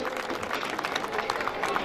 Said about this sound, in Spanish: Toro y jinete merecen el aplauso de todos